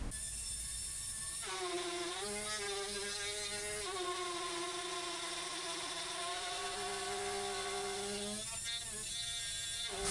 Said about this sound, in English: use my Dremel tool with the plunge router attachment. And I'm going to put rabbets on the sideboard